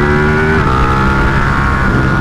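A Ducati 1299 Panigale motorcycle pulls hard in a short burst on a test ride, its engine note loud and close, with a steady rising drone carried under heavy road and wind roar.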